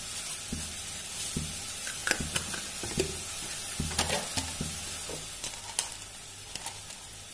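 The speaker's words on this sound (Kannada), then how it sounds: "ಸ್ವಲ್ಪ ಎಣ್ಣೆ ಹಾಕ್ತೀನಿ ಹುರಿಲಿಕ್ಕೆ ಅಷ್ಟೇ ಒಂದು ಸ್ಪೂನ್ ಅಷ್ಟು ಸೋಂಪಿನ ಕಾಳು" Fennel seeds frying in a spoonful of oil in a pan, a steady close sizzle with crackles and light pops throughout, no speech.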